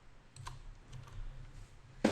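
A computer keyboard during Photoshop work, with a few faint, soft key taps spread out and then one sharper, louder key click right at the end, with no voices.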